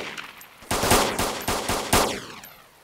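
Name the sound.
gunfire in the video game DayZ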